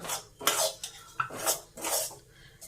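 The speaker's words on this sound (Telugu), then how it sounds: "ఈ శనగపిండి పచ్చివాసన అంతా పోయేలాగా వేయించేసుకోవాలి" Gram flour is stirred and roasted in hot oil in a pan for a bitter gourd stuffed curry, with a spoon scraping the pan in about five rhythmic strokes, close and fairly loud, with no voices.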